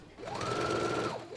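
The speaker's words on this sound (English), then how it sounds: "take it to your machine. And remember, you're only stitching it to the right front extension" A sewing machine stitches a zipper onto the right front extension of a pair of pants. It runs in one steady, close, continuous burst of rapid stitching that starts and stops cleanly.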